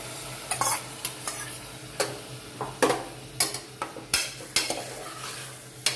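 A spoon scrapes and knocks against a metal pot while stirring soaked lentils and rice for khichdi, in irregular strokes, about a dozen clinks over a quiet background.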